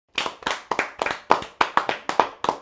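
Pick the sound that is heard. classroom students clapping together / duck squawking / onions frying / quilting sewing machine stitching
classroom students clapping together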